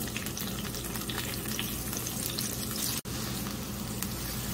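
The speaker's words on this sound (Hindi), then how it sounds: "सारी सब्जियों को हम 4 से 5 मिनट अच्छे से मीडियम फ्लेम पर फ्राई कर लेंगे" Vegetables and onion for sambar fry on a medium flame, giving a steady, close, even sizzle that runs continuously with one brief dip near the end, no voices over it.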